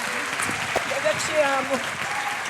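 Audience applause fills a church conference hall, a steady wash of clapping and cheering. A voice speaks over it.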